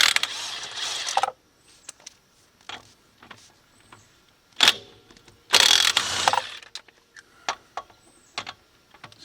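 A 2000 Honda Civic has its wheels taken off. Close ratchet clicks and metallic rattles come in short bursts, with two longer loud spells of ratcheting among scattered knocks and clanks, and quiet gaps between.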